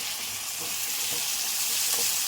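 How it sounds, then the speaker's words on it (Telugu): Tomato pieces fry in a pan with ginger garlic paste, a close, steady crackling sizzle with a few soft stirring bumps over a couple of seconds. "అల్లం వెల్లుల్లి పేస్ట్ కూడా వేగిందండి బాగా వేగిపోయింది ఇప్పుడు టమాటా ముక్కలు వేసుకుంది"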